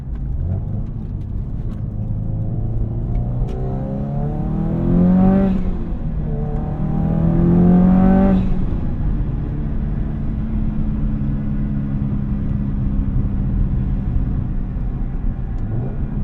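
A 2005 Subaru WRX STi engine (EJ207) drones steadily while driving, with two rising rev sweeps as it accelerates through gears, then settles into a steady cruising hum.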